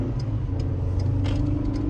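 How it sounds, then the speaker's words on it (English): Engine of a 2023 Ford Ranger Tremor pickup drones steadily as it accelerates up a hill, a continuous close-up hum with faint ticking and road noise and no talk. "This is just normal accelerating, and you can hear it really having to rev out to get up to the speed it needs to be"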